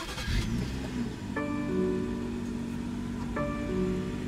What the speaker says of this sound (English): what you're hearing there is a 3-liter turbocharged 6-cylinder engine